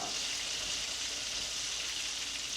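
White wine sizzles and bubbles in a risotto pan, a steady bright frying hiss with no break, fairly quiet and heard alone.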